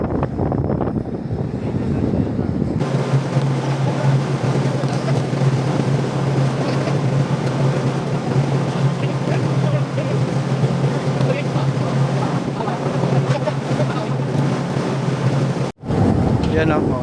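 A boat engine drones steadily on the water in the evening, a loud, continuous low hum with wind and water noise over it, and a brief dropout near the end.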